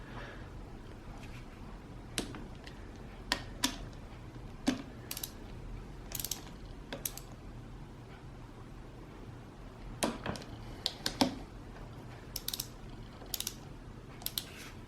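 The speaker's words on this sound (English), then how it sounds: "now I'm ready to start using a torque wrench" A torque wrench set to 6 newton meters clicks while tightening KTM DDS clutch bolts during a clutch replacement, giving sparse, sharp ratchet clicks spaced irregularly over a quiet workshop background with no talking.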